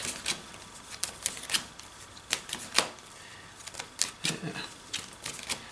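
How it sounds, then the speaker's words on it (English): A deck of trading cards is shuffled by hand, giving a quick irregular run of soft crisp snaps and riffles close to the listener, with brief pauses between bursts. "Just give this a good shuffle."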